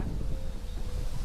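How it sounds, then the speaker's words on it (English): A gentle breeze blows steadily outdoors in Cambodia, a soft continuous wind rush with low rumbling buffets across the microphone. "just this beautiful breeze coming in at the moment"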